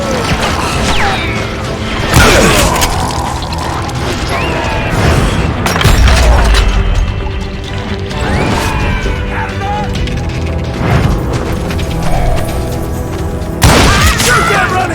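Western-themed shooter gunfight in Call of Juarez Gunslinger, with loud, sharp gunshots and booming blasts fired in irregular bursts, and shouting voices mixed in.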